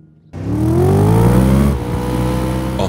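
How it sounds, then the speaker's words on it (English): Subaru Impreza engine revving up loudly and close after a moment of quiet, pitch rising smoothly and then holding at a high steady drone. "That's the sound of a Subaru Impreza N10."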